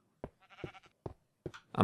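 Four short bleats from a Minecraft sheep, spaced roughly evenly and fairly close, with a louder burst of game noise at the very end.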